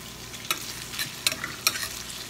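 Sausages sizzle in a pan with onion and green chile, with a soft continuous fry broken by four sharp scraping stirs of a utensil against the pan.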